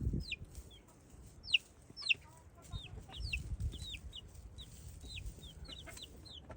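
Small chicks peep in quick, high chirps, many overlapping and close, while the chicken flock clucks softly underneath, with a few louder bumps and no talking.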